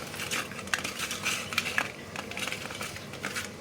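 Fish pieces being hand-mixed in a bowl with turmeric, salt and white oil for a doi katla dish: soft continuous squelching and rubbing with occasional light clinks, close and low in level.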